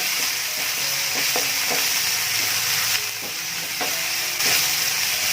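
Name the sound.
sautéing homemade amchur powder masala in a pan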